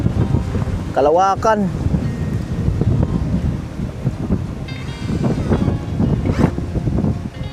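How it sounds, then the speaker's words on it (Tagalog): Strong wind gusts roar steadily against the microphone outdoors, a broad continuous rush throughout with brief voices passing over it. "Grabe. Pakalakas ng hangin."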